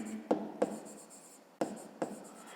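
Pencil writing on paper during a school maths exercise: four quick, soft scratchy strokes in two pairs, quiet and close, with no talking.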